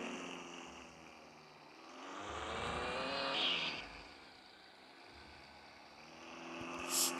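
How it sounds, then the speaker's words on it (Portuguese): A lowered car drifts around a roundabout, its engine revving up and down in long swells, with a brief tire squeal near the middle and another rise toward the end. "Bora fazer drift na rotatória."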